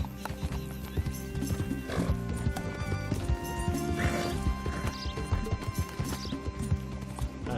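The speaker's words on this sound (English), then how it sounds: "Cavalo idiota, me derrubou." Horse in Red Dead Redemption 2 with steady clip-clopping hooves, up close and fairly loud over a busy game soundscape with music, plus a brief crash-like thud mixed in.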